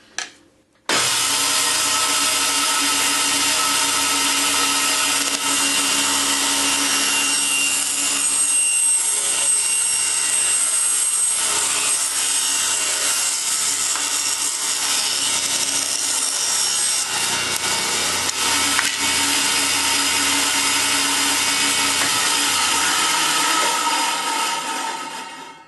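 A power saw rips thin wood strips for holly inlay, running loud and continuous for the whole stretch with a steady harsh cutting roar.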